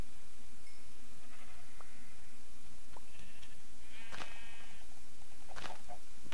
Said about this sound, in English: oh man, all the sheep.